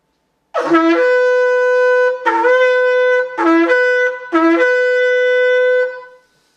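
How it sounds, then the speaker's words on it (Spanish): A shofar sounds the shevarim call, three short, equal broken blasts followed by a longer final one, bright and buzzy, close and alone. "Ese es el sonido shevarín, que son 3 sonidos iguales a un tequía."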